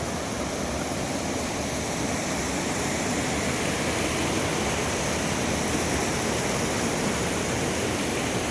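Steady rushing water of a mountain waterfall on a winding hill stream, a dense continuous roar that holds constant throughout with no pauses.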